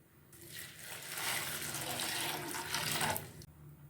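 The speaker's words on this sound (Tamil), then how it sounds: "அவலை தண்ணீர் ஊற்றி ஊற வச்சிடலாம்." Water pours steadily onto flattened rice (aval) set to soak, a soft continuous splashing stream that starts and stops abruptly, faint and close, with no talk.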